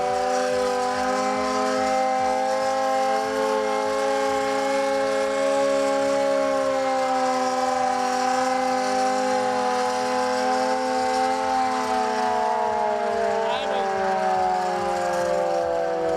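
A loud, sustained wailing civil defence flood warning siren holds a steady multi-tone pitch for the whole stretch, sounded as the River Ravi rises, with a low mechanical rumble beneath and no talking.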